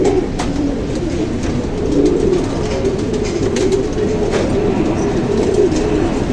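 A flock of pigeons coos in a steady, low, continuous murmur that holds evenly throughout, with no speech over it.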